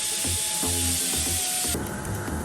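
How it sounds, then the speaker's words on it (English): Tack welding a small piece of metal onto a car brake pad in a workshop, heard as a close, steady crackling buzz with rapid irregular pulses and a sharp change partway through. "Maurizio is tacking on a little bit of metal onto the pad"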